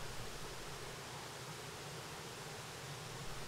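Steady rushing water from a waterfall and spring among green surroundings at Jiaoxi, Taiwan, a broad continuous roar that stays even and close throughout, with no voices.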